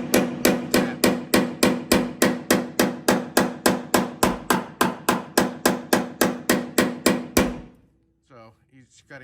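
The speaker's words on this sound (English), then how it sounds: "I'm going to gently tap this in and then weld it up" A hammer gently taps a metal body panel on a 1981 Camaro Z28 during restoration, about twenty-five evenly spaced, ringing metallic taps in a steady rhythm, close and loud, ending with a brief faint voice.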